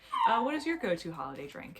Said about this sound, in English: And again, I apologize for my little dog.